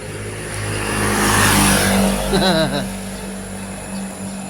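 A motorcycle fitted with an open pipe exhaust revs loudly nearby, a rising and swelling engine roar that peaks midway then eases off, with voices talking briefly underneath.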